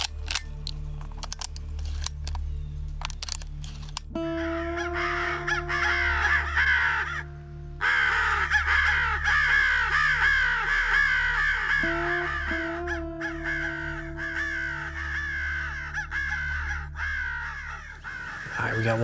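Crows caw repeatedly in a field on public land during a crow hunt, a busy chorus of harsh calls over steady background noise, with a long sustained electronic-sounding caller tone running beneath them.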